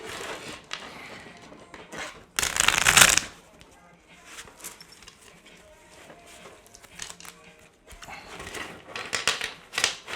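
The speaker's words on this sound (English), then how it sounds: "I'm going to shuffle these again." Tarot cards are shuffled up close in several riffling bursts, one long loud riffle then softer flicks and taps, with a voice speaking now and then.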